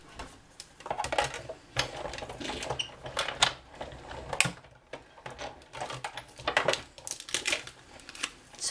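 A Big Shot die-cutting machine cranks Melon Mambo card through a scalloped square die, giving a run of clicking, ratcheting mechanical noises at a close, moderate level.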